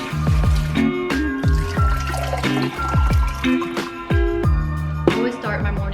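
Water poured into a big drinking glass, gurgling and splashing in repeated bursts with rising, glugging tones, close and clear with no talk over it.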